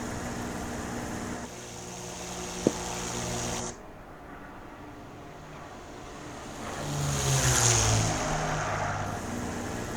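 North American P-51D Mustang flying a circuit, its propeller and aircraft engine droning steadily from inside the cockpit, the tone shifting midway and swelling louder near the end, no speech.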